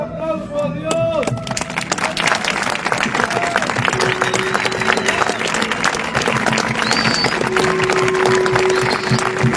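Applause from a church audience rises into a dense, sustained clatter of clapping with crowd noise, loud and continuous, while sung or spoken voices and music carry over it.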